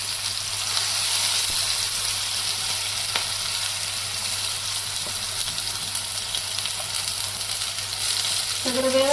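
Chopped onion, tomato and chili with cumin sizzle and fry steadily in a pan, a constant crackling hiss with occasional stirring clinks near the end.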